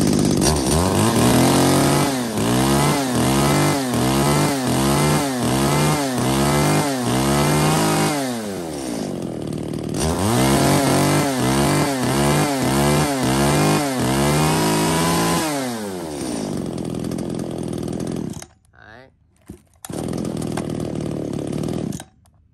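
A used 33cc Japanese-import chainsaw engine runs loudly up close, revving in repeated rhythmic surges for about sixteen seconds before cutting out, with no one talking.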